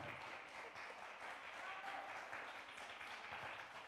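Steady audience applause at an Andean Colombian music gathering, a continuous wash of clapping from a crowd, faint and distant, sustained throughout.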